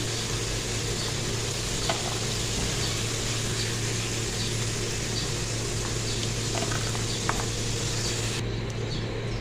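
Potato pieces fry in hot oil for aloo masala, giving off a steady, close, even sizzle that hardly changes throughout, with no talking.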